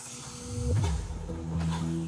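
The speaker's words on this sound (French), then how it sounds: "C'est pour faire entrer la vapeur dans le piston." Steam hisses steadily from a coal-fired steam locomotive, a broad rushing noise with low mechanical rumble and a tonal hum beneath, close and continuous.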